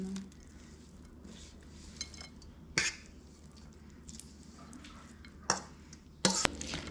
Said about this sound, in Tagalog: Pwede na po nating idagdag yung ating tinimpla na papaya na may hipon.